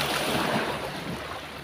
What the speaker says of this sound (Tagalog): Yan ang agos.